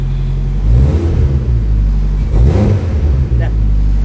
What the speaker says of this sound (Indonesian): Coba naikin RPM.